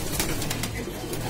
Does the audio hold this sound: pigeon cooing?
yes